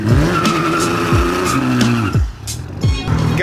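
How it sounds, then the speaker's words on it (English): A 1JZ-powered Lexus does a burnout on new wheels, with loud, repeated tire squeals and skids in close bursts over a revving engine. "Gotta do a little bit of a burny to get this tire stickers off and to get that first heat cycle through"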